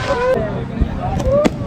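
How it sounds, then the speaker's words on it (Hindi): Firecracker tossed during a 14 August celebration, one sharp pop amid street noise and crowd chatter, with people talking nearby. "ये एक पटाखा बच्चों की तरह एक करके एक आध 15-15 सेकंड बाद फेंक रहे हैं"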